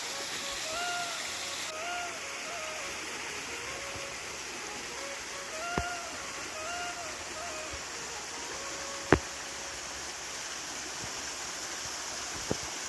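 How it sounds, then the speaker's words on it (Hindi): A mountain waterfall with clear water, still at low flow, sends a steady, broadband rush from a distance, with a few sharp clicks and faint chirping on top, and someone speaks briefly. "यहाँ पर झरना भी स्टार्ट हो चुका है"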